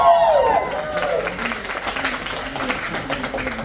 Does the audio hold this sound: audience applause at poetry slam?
yes